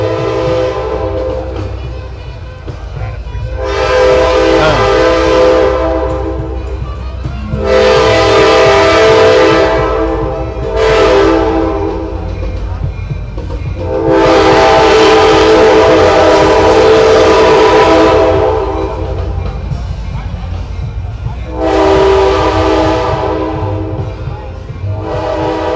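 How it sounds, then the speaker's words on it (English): A passing train sounds its horn in several long, loud blasts separated by short gaps, over a rumbling rail background. "We're going to let this train pass"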